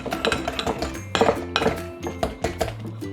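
Cookie ingredients mashed in a bowl with a utensil, producing a quick, busy series of close clinks and knocks against the bowl, with no voices.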